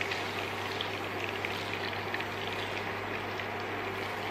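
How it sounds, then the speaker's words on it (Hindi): Garlic paste, coriander paste and butter frying in hot oil for a balti gosht dish, giving a steady, even sizzle and bubbling hiss close by that runs without a break, with a low hum underneath and no talking. "So I take 1 spoon garlic paste, 1 spoon coriander paste and 1 spoon butter, mix it and I am gonna place this in this hot oil."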